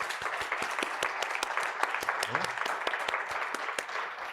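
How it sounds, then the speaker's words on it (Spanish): Audience applause for panel participants at a wine tourism event in Novelda, a steady patter of clapping at moderate level with some individual sharp claps and a faint voice briefly underneath. "vamos a darles un aplauso a los participantes"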